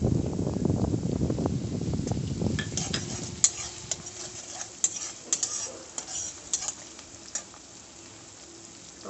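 Onion and grated ginger frying in a pan, a busy crackling sizzle at first that settles into a quieter hiss with scattered sharp taps and scrapes of a spoon against the pan, nearby, without any voices.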